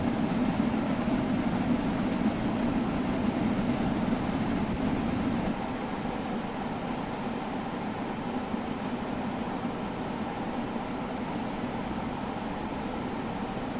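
A steam locomotive on a rail tour in Train Sim World 2 rumbles along the rails at speed on the Horseshoe Curve route, a steady dense roar with faint clickety-clack, continuous and fairly loud, softening slightly partway through.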